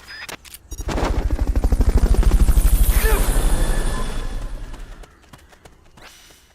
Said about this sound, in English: Fulton recovery subject confirmed onboard helicopter.